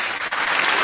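A short burst of canned applause played as a sound effect during a casual interview chat, dense clapping filling the moment with a brief dip partway through.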